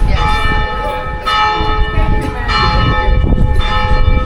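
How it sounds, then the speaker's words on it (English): Church bells of the Saint Louis cathedral in Martinique ring out at noon, a steady, loud peal with sustained overlapping tones filling the whole stretch amid outdoor street ambience. "So that's why the bells are going off."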